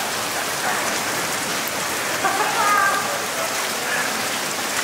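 Steady rain falling outdoors during a lightning storm, a dense even hiss of drops on surfaces filling the whole stretch, with a faint brief tonal sound partway through.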